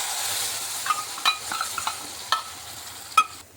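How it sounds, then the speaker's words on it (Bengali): Bengali lentil dhoka and asafoetida dropped into hot oil give off a soft, continuous sizzle, with a few sharp clinks and scrapes of stirring scattered throughout. "তার জন্য তেলের মধ্যে দিয়ে দিচ্ছি হিংগুলো আর দিয়ে দিচ্ছি ধোকাটা।"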